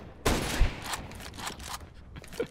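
In Counter-Strike: Global Offensive, a burst of rapid gunfire crackles, then scattered shots follow at irregular intervals, sharp and fairly loud.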